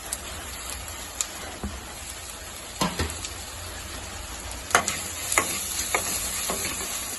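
Onions, tomatoes and curry leaves fry in a pan with a steady soft sizzle, broken by occasional sharp clinks and scrapes of stirring, close and with no talking.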